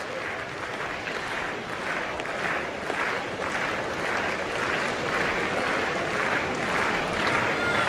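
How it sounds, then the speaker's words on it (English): Rhythmic hand clapping from a busy athletics stadium crowd during pole vault qualification at the European Championships in Zurich, a steady pulsing beat of many hands, distant and continuous under the crowd's general noise. "You hear the characteristic rhythmic hand clapping"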